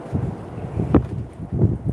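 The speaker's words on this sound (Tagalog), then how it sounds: "lakas ng hangin" Gusty wind buffets the microphone in low, rumbling bursts, rising and falling over a couple of seconds.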